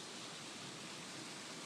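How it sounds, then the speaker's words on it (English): A small waterfall flowing in a creek after rain, a steady broadband rush of falling water, close and constant with no other sounds. "That's a little baby waterfall."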